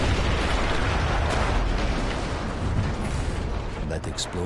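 A heavy explosion in the video game Battlefield 1 rumbles with a dense, sustained roar and crackling debris, loud and continuous, with faint voices underneath.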